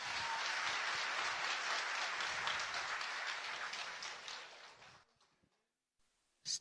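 An audience at a motivational business seminar claps loudly for the sponsors, a full, dense burst of applause that fades out after about five seconds into near silence, with a brief thump at the end.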